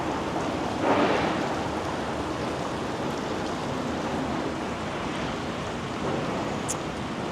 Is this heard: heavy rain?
yes